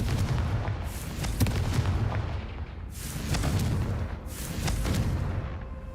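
Blasting spell explosions in the Hogwarts Legacy video game, a series of loud booming bursts with rumbling tails, three or four big blasts spread over several seconds with no talk.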